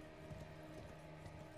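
Horse hooves clip-clop in the video game Elden Ring: Shadow of the Erdtree, a steady rhythmic trot under a dense game soundscape with a mechanical hum, moderately loud and close.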